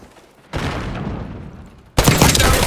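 A frag grenade blast in the video game Black Ops 6 erupts suddenly and loudly, then a second, louder burst of explosive noise follows about a second and a half later.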